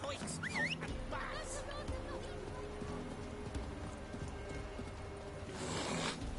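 Faint hooves clip-clop in a loose rhythm with a brief whinny near the start, under steady background noise and a talking voice; a horse in the video game Witcher 3.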